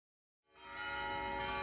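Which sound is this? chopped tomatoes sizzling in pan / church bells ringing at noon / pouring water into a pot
church bells ringing at noon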